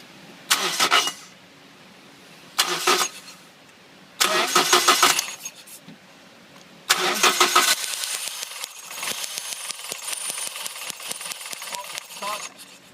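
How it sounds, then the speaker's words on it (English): A car engine cranks in several short bursts separated by pauses during an ignition coil spark test, then catches into a rough, pulsing idle; close and loud. "go ahead, crank the engine"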